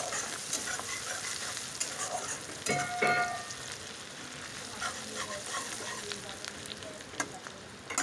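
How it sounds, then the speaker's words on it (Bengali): Onions sizzle and crackle in a hot pan as they fry until reddish-brown, with occasional stirring scrapes and clinks over a steady frying hiss. "পেঁয়াজটা একটু লাল লাল করে ভেজে নেব।"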